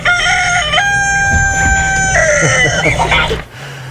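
A rooster crows loudly and close up, one long drawn-out cock-a-doodle-doo with rising and held tones that breaks into a ragged fall at the end. It plays alone over a low steady hum.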